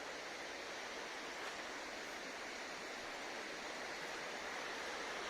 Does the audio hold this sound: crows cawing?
no